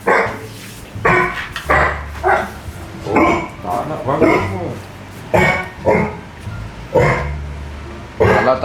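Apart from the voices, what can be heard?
dogs barking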